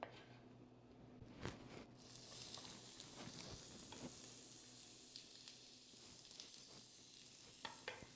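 Shallots sizzling in a pan, a soft, quiet crackle with occasional stirring scrapes and light pops, steady and close with no talking.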